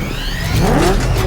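Batmobile engine in Batman: Arkham Knight, a short revving whir that rises in pitch as the car pulls up, loud and close, with no voices.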